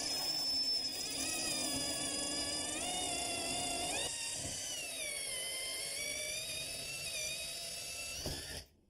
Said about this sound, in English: I'm going to drill a series of holes using a ceramic drill bit right along our template line